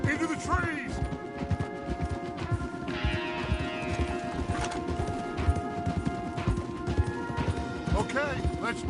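Horses' hooves clip-clop in a fast rhythmic gallop on a trail in the Red Dead Redemption 2 video game, with an occasional whinny and tack sounds, continuous and close.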